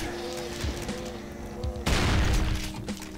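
Rapid gunfire in the Brutal Doom video game, a dense fusillade with booming blasts and a sharp louder burst near the middle, continuing steadily to the end.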